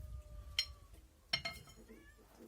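A cat gives a couple of short, thin meows in a workshop setting, fairly faint over low background rumble.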